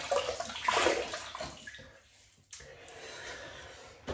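Water from a tap splashes over a shaving brush, a close watery rush that fades, then a quieter trickle and brief handling sounds; no voices.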